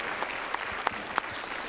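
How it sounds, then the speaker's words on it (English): An audience at a Black History oratorical competition claps for the contestants, a brief, steady wash of applause from a modest crowd with a few sharper individual claps. "give another round of applause for an outstanding job by our contestants here"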